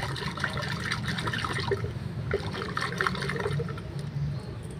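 Brake parts being shaken in a container of cleaning liquid during a brake repair, giving a steady sloshing, swirling water sound that runs continuously and fairly close throughout, with no talking.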